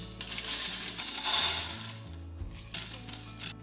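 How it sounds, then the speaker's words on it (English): Dry beans rattle and patter into a pot in a continuous pour of small hard clicks, swelling briefly then tapering off, with no talking. "Put the beans in the pot."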